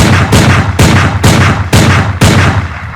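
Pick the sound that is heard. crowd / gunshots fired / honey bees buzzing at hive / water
gunshots fired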